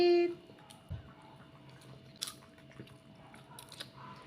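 Close, quiet chewing of leftover pancit canton with meat, egg and spam, soft crunches and squishy bites scattered over a few seconds after a brief tone at the start, no talk.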